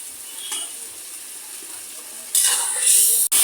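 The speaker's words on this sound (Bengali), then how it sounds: "এই যে দেখুন আমরা সুন্দর করে কষাই নিচ্ছি মশলাটাকে।" Masala for dried fish (shutki) with potatoes being sautéed and stirred in a pan, with a steady soft sizzle that grows sharply louder partway through, and a brief clatter near the end, close.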